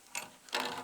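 A homemade die tool cuts threads into an oiled aluminum or plastic pipe as vice grips turn it, giving two short scraping, ratcheting grinds close up, the second louder and longer.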